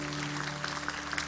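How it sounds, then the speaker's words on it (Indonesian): Faint, steady applause from a church congregation, a continuous patter of clapping heard at a distance. "Oke, beri tepuk tangan."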